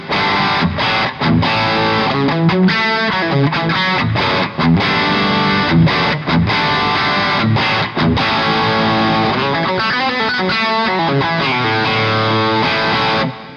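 An electric guitar with humbuckers plays through a Boss Katana amp's crunch setting, strumming choppy, rhythmic overdriven chords with short muted gaps between them. It is steady and full throughout, with no talking.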